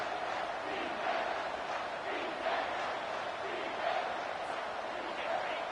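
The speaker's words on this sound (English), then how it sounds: "this crowd is tearing the lid off this place" A stadium crowd roars continuously in a college football video game, UCLA at LSU, rising in loud swells near the end of a tight third-down moment as play-by-play commentary runs over it.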